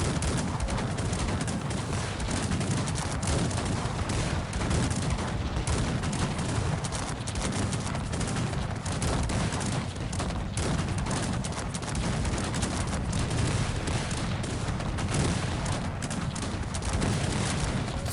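Cannons firing in a real-time strategy video game battle: a dense, continuous roar of booms and crackling volleys, with galloping hooves and the clatter of combat mixed in at constant loudness.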